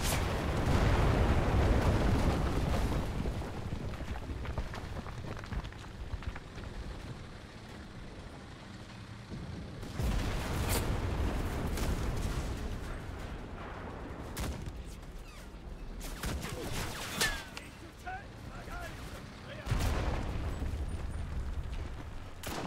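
A fast-firing weapon in the WWII shooter Enlisted rattles off rapid bursts amid a roar of surrounding battle, with the loudest volleys clustered at the start, midway and near the end.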